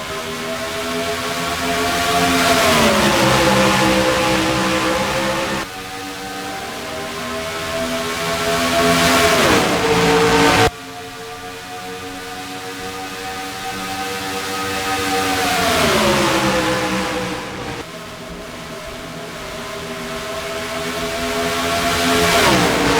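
Stock race cars roar away at a green-flag restart at Charlotte in a Cup Series 600 race, loud engines rising repeatedly in pitch through gear changes as a string of cars accelerates past, one swell after another.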